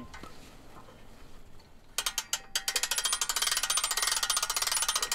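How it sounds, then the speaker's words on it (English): A strap winch ratchets during a horse-drawn leek harvest, starting with a few separate clicks and then settling into a fast, steady run of close, crisp pawl clicks. "Strap winch works quite well for this little job."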